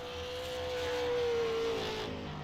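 Race car on a hot lap at the Lucas Oil Super 50, its engine whining at a steady high pitch that swells as it draws near and then falls as it passes.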